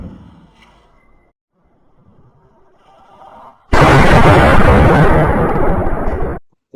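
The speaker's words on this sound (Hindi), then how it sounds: "दूर जाके एक पटाखा फूटेगा।" A sudden loud blast from a firecracker in a small toy cannon cuts in after quiet rustling and keeps roaring for nearly three seconds before stopping abruptly. It sounds close and harsh.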